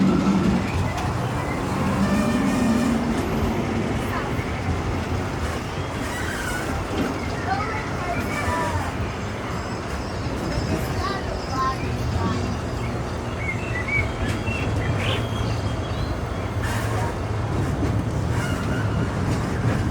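Big Thunder Mountain mining train at Disneyland rumbling steadily along the track, with rattling cars, faint whistle-like tones and crowd noise blending into a continuous loud wash under distant talk.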